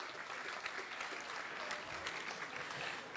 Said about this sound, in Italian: applauso enorme per voi